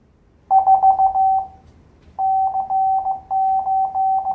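Steady single-pitch Morse code beeps, as from a straight key, keyed on and off in short bursts and longer dashes, with a brief pause, over faint background hiss.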